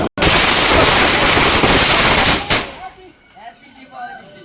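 A string of Diwali saravedi firecrackers bursts loud and close in rapid, continuous crackling for about two and a half seconds, then cuts off, leaving quieter scattered pops and background noise.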